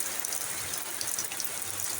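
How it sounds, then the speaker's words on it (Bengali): Heavy rain falling on a duck farm, a dense, steady hiss of close downpour with scattered drops pattering on surfaces. "এখন তো একেবারে জোরেই নামছে বৃষ্টির মধ্যে"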